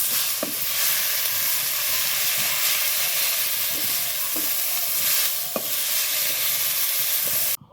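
Banana flower sizzles in hot mustard oil with a continuous close hiss, broken by a few soft clinks of stirring spread across the clip and a faint thump near the end; no one speaks.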